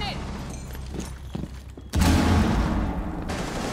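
Grenade detonation in the Rainbow Six Siege video game, a sudden loud boom about two seconds in that rumbles and decays, following quieter in-game sounds and voice chat.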